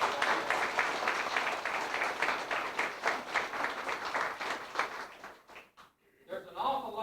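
A reunion audience gives a round of applause, dense clapping from many hands that fades out near the end before a brief voice and some clatter.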